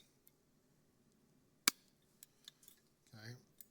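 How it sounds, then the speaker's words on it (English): Cutters make one sharp snip through wiring on a Harley-Davidson motorcycle, followed by a few faint clicks and handling noises in a quiet room. A voice briefly speaks nearby. "We'll just snip it right there."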